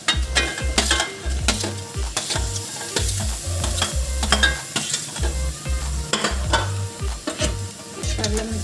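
A spoon stirs potato into a whole mung bean dosa filling mixture in a hot pan, with a steady sizzle under repeated scraping and clinking strokes against the metal, close and fairly loud.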